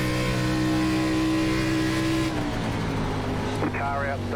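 Race car engine from the iRacing ARCA Series at Twin Ring Motegi, a loud sustained droning roar with steady pitch that shifts as another car runs alongside on the outside, with a voice talking over it.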